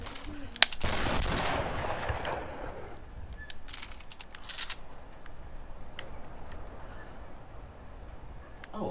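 Shotgun fire in the video game Tomb Raider, with one loud blast that trails off into a rumbling echo, followed by scattered sharp clicks and faint impacts over a low background hum.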